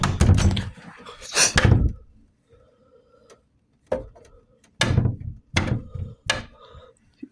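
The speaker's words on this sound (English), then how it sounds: "Foxy banged on the door" Foxy from Five Nights at Freddy's pounding on a closed office door: a run of loud, sharp separate bangs spaced apart, with a quiet game hum between them.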